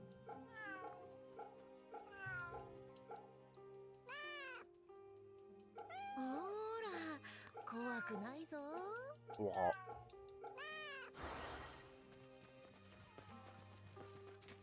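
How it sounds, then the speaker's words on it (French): Meows from a cat in the video game Fate Samurai Remnant sound repeatedly, rising and falling, amid game music and chimes, with a voice speaking over parts of the scene. "T'as encore un chat à caresser"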